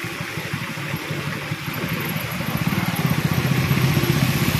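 A motorcycle riding through floodwater on a flooded highway, its engine chugging steadily and growing louder while water swishes and splashes around the wheels, with no talking.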